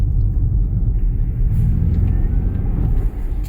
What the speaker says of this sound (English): You can hear the tires the second you put the foot down a little bit.